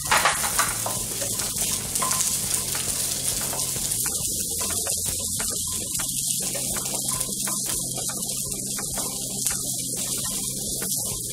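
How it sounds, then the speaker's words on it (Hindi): Onion, ginger and garlic frying in a pan for masala egg curry, a continuous broad sizzle over a low steady hum, even in level throughout with no distinct stirring strokes and no voices. "ये हमारा थोड़ा प्याज जो है वो भून के तैयार हो गया अभी अभी इसके साथ ही मुझे थोड़ा ये अदरक और लहसुन दोनों को भी भूनना है"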